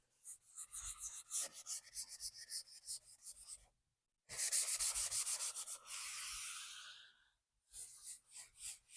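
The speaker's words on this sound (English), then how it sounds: "You can hear that as it's scraping that dusted surface." Close, rhythmic scraping strokes of a scrubbing pad rubbed back and forth on glass dusted with paint overspray, pausing twice, then building into a longer continuous scrub.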